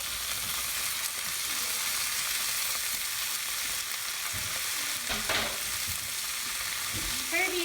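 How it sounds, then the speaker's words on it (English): Tomatoes for baingan bharta sizzle steadily in a hot pan, a dense hiss of frying broken by occasional scraping stirs near the end. "Okay, in go the tomatoes."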